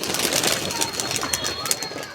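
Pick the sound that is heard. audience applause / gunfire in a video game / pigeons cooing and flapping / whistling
pigeons cooing and flapping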